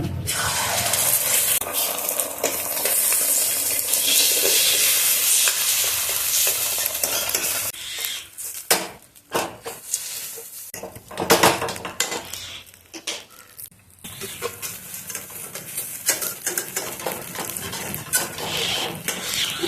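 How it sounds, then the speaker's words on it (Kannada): Oil and egg sizzle loudly in a pan as an omelette cooks for a Goan street snack, a continuous close frying hiss broken by scraping and clattering of a metal spatula against the pan. "ಸ್ವಲ್ಪ ಎಣ್ಣೆ ಕಳೋಣ ಆಮ್ಲೆಟ್ ಹಾಕಿ ಮಾಡೋಣ"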